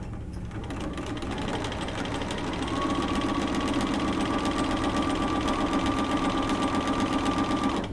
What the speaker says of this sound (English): You're going to sew a few stitches.